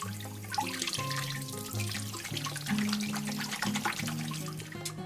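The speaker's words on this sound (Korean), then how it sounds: "오징어는 물에 깨끗이 씻어서 이빨을 빼주고" Squid being rinsed clean under running water at a kitchen sink, a steady splashing and trickling stream that continues throughout with tonal background hum, no voices.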